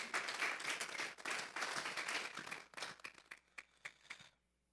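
A church congregation gives a strong round of applause to the Lord, crisp dense clapping that swells, then thins into scattered claps and fades to silence near the end.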